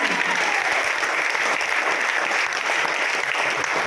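An audience at a Vestige gathering claps steadily and loudly for their upliner, dense applause continuing without break.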